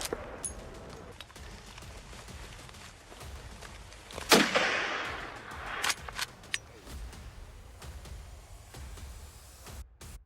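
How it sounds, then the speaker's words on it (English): Gunshots ring out during a wild boar hunt in Texas woods, with one sharp loud crack standing out midway among scattered fainter bangs and rustling outdoor noise. "The gunshots, the growls, and the rapid footsteps of the hunting dogs blended into the fierce music of the mountains and forests"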